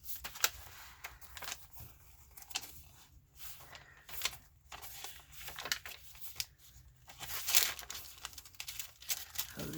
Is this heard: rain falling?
no